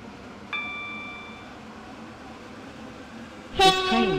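A Connect train in the video game SCR runs along with a low rumble, a short chime-like tone near the start and a loud horn blast toward the end.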